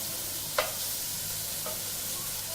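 Smoked bacon and mushrooms being stirred and tumbled in a pan on a Weber Spirit II E-310 gas barbecue, a steady soft sizzle with two brief scraping stirs, no talking.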